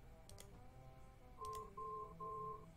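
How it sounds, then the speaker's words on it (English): A cell phone rings from inside a pair of pants, three short electronic tone bursts in a quick even rhythm, muffled and moderately loud over a quiet background. "It was my cell phone."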